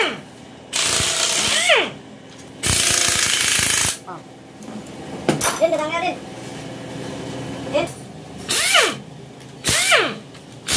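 Ratchet or power tool loosening 12 mm bolts while dismantling a Toyota Alphard, coming in loud broadband bursts of a second or two, separated by clicks and short squeaky mechanical noises, with talk over parts of it.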